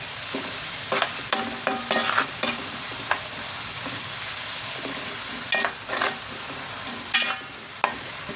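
Onion pieces and green chillies frying until brown for a chicken fry, a steady close sizzle broken by clusters of spatula scrapes and knocks against the pan at irregular intervals, with no one speaking.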